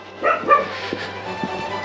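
Mutt dogs bark on farmland in Seongju, North Gyeongsang: two or three close yips and barks up front, then fainter single barks over a low steady hum.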